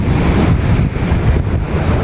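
Ocean waves breaking against coastal rocks, a loud continuous roar of surf mixed with gusty wind buffeting the microphone, steady throughout with no voices.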